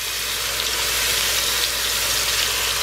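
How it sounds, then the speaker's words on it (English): Pot roast meat sears in a hot pan, a steady, loud, dense sizzle that holds unbroken throughout with no voices. "Just want to sear it"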